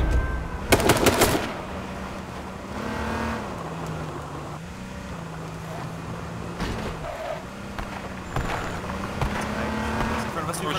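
A car in H1Z1 King of the Kill drives with a steady droning engine that rises and dips, under overlapping voices and bursts of gunfire.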